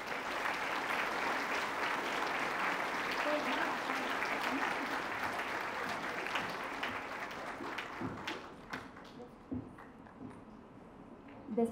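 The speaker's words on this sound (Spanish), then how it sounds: "Demos un fuerte aplauso nuevamente," An audience at an interdisciplinary arts and humanities congress applauding warmly, steady dense clapping that thins into scattered claps after about eight seconds.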